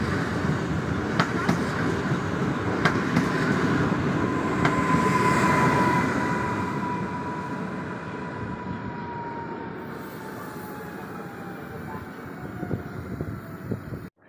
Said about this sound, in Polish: Wjeżdża pociąg osobowy, relacji Łowicz Główny, Warszawa Wschodnia.